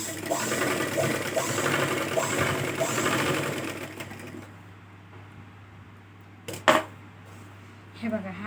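A sewing machine stitches a blouse piece in a steady close whir for about four seconds, then stops, leaving a quiet room with a brief knock and a few faint sounds.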